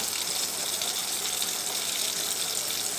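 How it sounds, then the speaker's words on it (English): Running tap water rinses a degreased steel knife blade, a steady broadband gush of flowing water at close range with no pauses and no talking. "So a good rub down. And rinse off."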